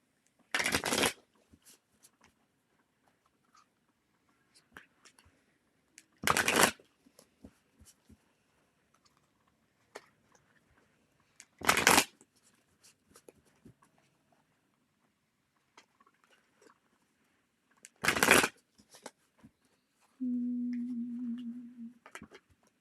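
A deck of tarot cards is riffle-shuffled in four short, crisp bursts spaced several seconds apart in an otherwise quiet room, followed at the end by a steady low tone.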